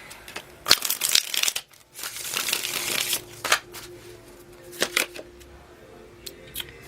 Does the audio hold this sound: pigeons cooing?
no